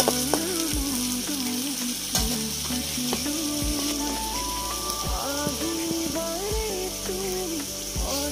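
Steady crackling sizzle of salt and turmeric frying in hot oil, continuous and close, with occasional stirring clatter and no voices.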